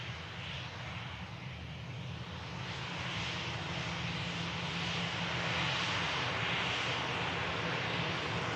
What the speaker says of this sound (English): Airbus A319 in here, getting used with EasyJet